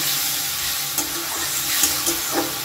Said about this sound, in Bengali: খুব ভালো করে এবার এটাকে কষিয়ে নেব।